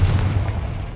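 A Confringo blasting spell explodes in the video game Hogwarts Legacy, a loud, heavy booming rumble with deep low-end weight that carries steadily through the whole second without a break.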